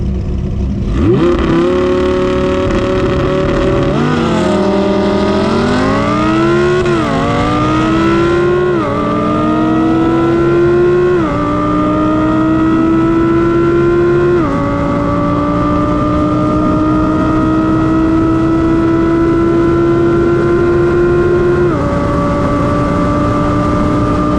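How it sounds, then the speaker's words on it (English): An 8-liter Dodge Viper V10 with a big lumpy cam launches from a dig and accelerates hard, a loud, close roar climbing in pitch through several gear shifts and spinning through first gear, with no voices. "But now it's time to see what the Viper can do from a dig."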